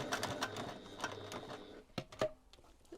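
A sewing machine stitches a cross body bag at a short 1.5 stitch length. It whirs quietly for under two seconds, then stops, followed by a few faint mechanical clicks.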